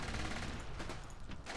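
Rapid, continuous gunfire from the video game Graviteam: Mius Front, a dense rattle of overlapping shots filling the whole short moment at steady loudness.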